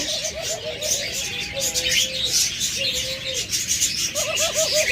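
Caged pet birds, budgerigars and cockatiels, chirp and tweet up close in a repeated warbling pattern, with a dove cooing among them and a dense chattering backdrop throughout.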